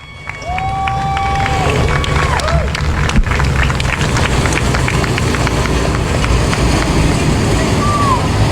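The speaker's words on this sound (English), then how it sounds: "give them a round of applause" Crowd applause and cheering in the grandstand at Timberline Speedway, a broad, sustained clatter of many hands under a loud, echoing announcer's voice over the PA, with whistles and a sharp clap cutting through.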